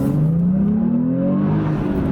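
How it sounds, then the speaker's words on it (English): A Porsche 911 with a 7-speed manual gearbox revs up smoothly as it accelerates, its pitch climbing steadily in one loud, close pull. "let's do a little acceleration here."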